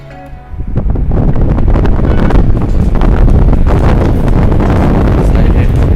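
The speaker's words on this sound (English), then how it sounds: "So now let's test the fan." A Crompton Trans Air four-blade 225 mm exhaust fan whirs up within the first second and then roars steadily at close range, a loud, broad rushing hum of moving air that holds constant to the end.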